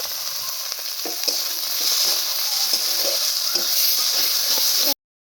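Ground spice paste with salt and turmeric frying in a pan for stuffed bitter gourd, a steady close sizzle with occasional stirring scrapes, ending abruptly.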